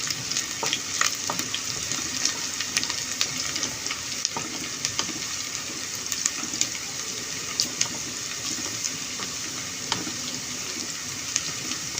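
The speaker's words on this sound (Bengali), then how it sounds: "এখন আমরা এগুলোকে একটু গোল্ডেন ব্রাউন করে ভেজে নেব" Chopped onion, green chili, bay leaves, cinnamon and cardamom fry in hot oil with a dense, crackling sizzle, steady throughout and dotted with sharp pops and spatters.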